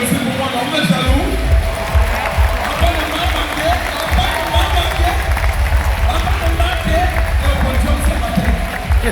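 Audience at a Rise Africa entrepreneurship conference in Cameroon clapping loudly, with the hall's applause and some crowd noise continuing steadily after a short quieter start.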